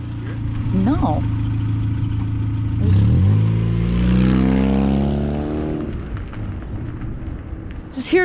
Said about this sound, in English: I just hear that exhaust rattling.